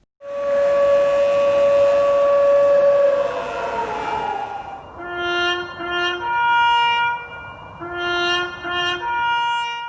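A loud, sustained siren sounds for a moment of silence in Turkey, wailing steadily, then shifting into a pulsing, multi-toned blare that rises and falls in repeated bursts.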